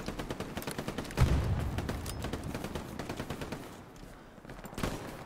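Rapid automatic gunfire crackles in a video game battle on Omaha Beach, with dense bursts of shots and one heavier blast near the start, sounding fairly close and continuous with no talk over it.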